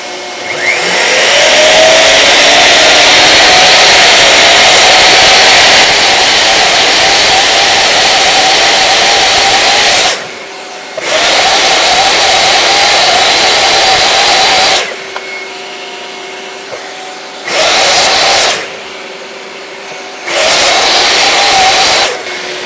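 A miter saw cuts wood in repeated bursts, its loud whining motor running for long stretches and stopping briefly between several cuts.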